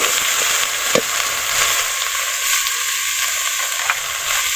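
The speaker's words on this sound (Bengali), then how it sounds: "সয়াবিন তেল গরম হলে পেঁয়াজ কুচি দিয়ে দেব কাঁচামরিচ দুই ফাঁক করে কেটে রাখা আলু কুচি" Chopped onion, split green chilies and chopped potatoes fry in hot soybean oil with a loud, continuous sizzle. Occasional clicks and scrapes come from stirring.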